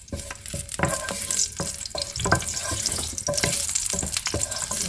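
Garlic dropped into hot extra virgin olive oil, a close, crackling sizzle with irregular spits and pops, interrupted by stirring clatter against the pan.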